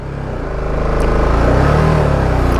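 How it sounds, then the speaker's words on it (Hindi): A motorcycle engine labors loudly and close on a rough, slippery mountain road near the Lambi Dehar mines in Uttarakhand, a steady pulsing drone that rises slightly in pitch as the rider pushes on. "और फिर भी बाइक पीछे स्किड कर रही थी"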